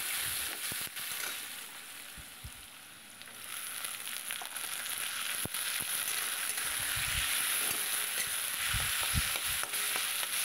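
Chopped and grated onion frying in a pan while being stirred, a quiet, steady sizzle with occasional soft scrapes and clinks of the spoon, no talking.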